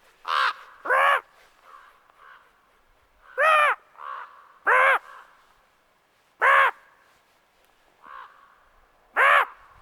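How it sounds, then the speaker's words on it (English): A crow caws loudly and harshly in a backyard vegetable garden with raised beds, giving about eight calls in uneven pairs and singles, with quiet gaps between them. "hello bird"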